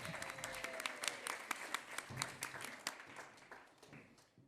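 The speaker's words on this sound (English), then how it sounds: "put your hands together" Crowd applause at a local singing competition, a fairly faint and distant patter of many hands clapping that tapers off toward the end.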